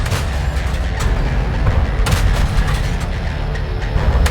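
Tank guns fire shells in the World of Tanks video game, dense, continuous heavy booms and rumbling blasts at close range without any talk.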